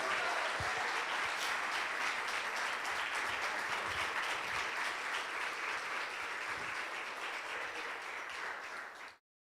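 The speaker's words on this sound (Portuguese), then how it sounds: "aplauda o nome do Senhor Jesus, irmão." A church congregation claps together in sustained, dense applause at even loudness for about nine seconds, then stops abruptly, with no voices over it.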